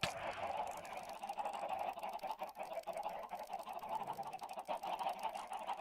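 Minecraft chickens on an island, their cackling and honking calls blending into a steady, dense chorus of overlapping bird sounds at constant loudness throughout.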